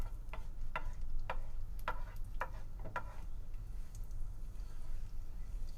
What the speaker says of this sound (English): So we're adding in the cumin seeds, and we're going to just saute them until they start to make the popping sound